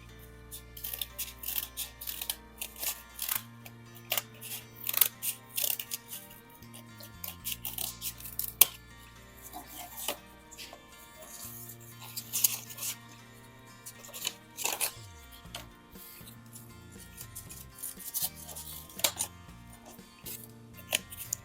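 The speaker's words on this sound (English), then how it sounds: "with our scissor we will cut this part" Scissors snipping paper while making a Halloween paper pumpkin, with sharp irregular cuts and rustling handling close by, scattered across a quiet room hum.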